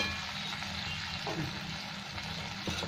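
Onion, tomato and turmeric fry in a pan with ginger and garlic for a Bengali muri ghonto, giving a steady, close hiss and sizzle, with a couple of soft stirring scrapes.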